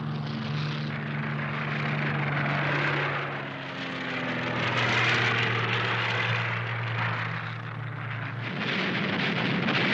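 An Il-2 Sturmovik propeller-driven warplane with a 1600-horsepower engine drones loudly overhead, its engine note rising and falling as it passes close, with no voices.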